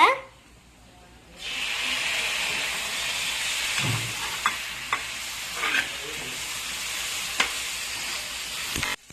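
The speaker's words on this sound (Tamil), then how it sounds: "மல்லித்தூள் ஆட் பண்ணிக்கோங்க. தக்காளி ஆட் பண்ணிக்கோங்க." Tomato and coriander powder fry in a pan for Chettinad rasam. After a quiet opening second, a steady hissing sizzle takes over, with occasional soft stirring knocks and scrapes; no words are spoken.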